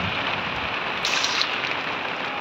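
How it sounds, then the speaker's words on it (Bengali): Heavy rain at a water park pours down in a steady, dense hiss with no let-up, with a slightly louder patch partway through and no voices. "প্রচুর বৃষ্টিতে আমরা আছি"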